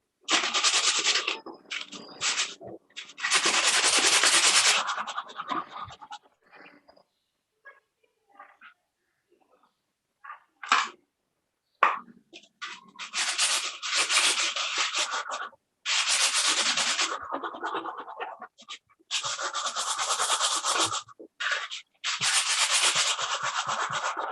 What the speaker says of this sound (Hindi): बस इस जो सरफेस है उस पे ऐसे रब करना